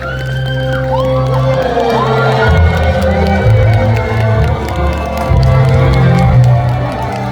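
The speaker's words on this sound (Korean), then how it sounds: "여러분들 큰 박수 함께 지금 시작합니다" A large outdoor crowd cheers, whoops and claps loudly as a singer takes the stage at an autumn Gyeonggi-do culture festival concert near Soyosan, with a steady roar and swelling shouts.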